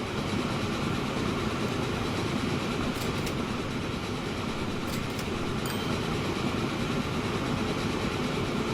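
A train running in the video game Train Fever gives a steady, dense rumble with a constant roar throughout and a few faint high clicks partway through, with no talking.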